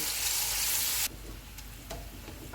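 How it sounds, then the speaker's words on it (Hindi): Sliced onions sizzle loudly in hot oil for about a second, then the frying drops abruptly to a softer crackle with a couple of faint clinks, with no voices. "प्याज को गोल्डन ब्राउन फ्राई करेंगे।"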